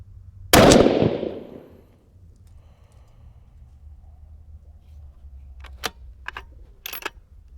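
A 6mm Creedmoor rifle fires once at a 200-yard range: a single loud, sharp crack rings out and fades over about a second, followed later by a few faint clicks.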